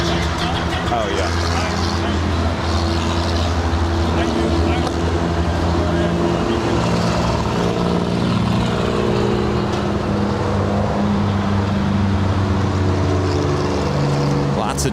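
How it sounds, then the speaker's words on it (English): Road traffic heading to the beach, heard from above near LAX: a continuous dense roar of engines and tyres that stays steady throughout, with voices talking over it. "Lots of traffic heading to the beach."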